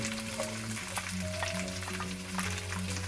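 Chopped garlic sizzles in a pan of oil for chicken chow mein, a steady close crackle with occasional clicks from stirring and a low hum beneath.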